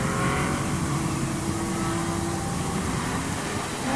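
Touring cars roar through a 2.5-hour endurance race at Sonoma Raceway, engines droning and revving loudly in a continuous wall of sound with no talk over it.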